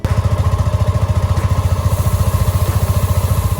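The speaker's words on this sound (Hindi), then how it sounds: "अभी मोटरसाइकिल को स्टार्ट करके" A Yamaha FZS V2 motorcycle engine runs at a steady idle, close and loud, with an even rapid thumping exhaust pulse and mechanical clatter throughout, no talking.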